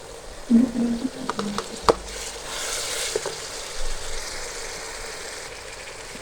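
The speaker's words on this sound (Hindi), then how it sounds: "अच्छी तरह हम इसको भून लेंगे ताकि लहसुन की महक ख़त्म हो जाए।" Ginger garlic paste and onions fry and get stirred in a pot for a chicken handi, a constant sizzle with scattered scraping and knocking strokes of a spoon, close and moderately loud.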